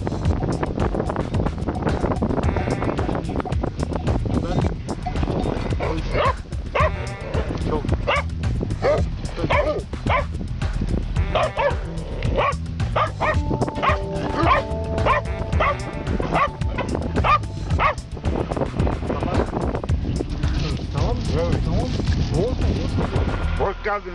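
A dog barks and yips repeatedly on a windy outing near the Kaz Mountains, loud and close, with whimpers between barks, wind buffeting the microphone and voices talking in the background.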